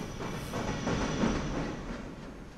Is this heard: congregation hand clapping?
no